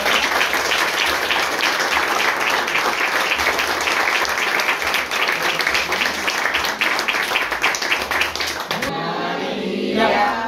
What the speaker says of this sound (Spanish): Démosle un fuerte aplauso a la honra